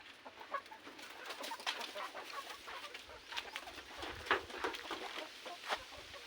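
Scattered chicken clucks and bird calls over a steady outdoor background, moderately distant, with no talking.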